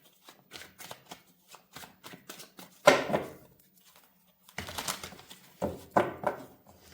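A tarot card deck is shuffled close by, first as a run of light flicking taps and then in several longer riffling bursts, separated by short pauses.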